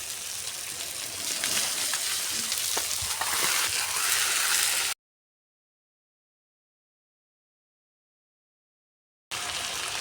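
Small puti fish fry in a pan with a loud, dense crackling sizzle that cuts out abruptly midway, then returns for the final moments.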